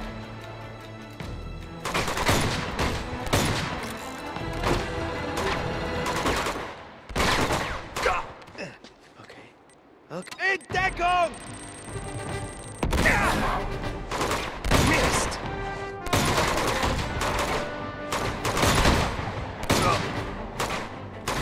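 Bursts of automatic gunfire and explosions from the video game Uncharted 2: Among Thieves on PS4 come loud and dense in repeated volleys, with a short lull halfway before the shooting resumes.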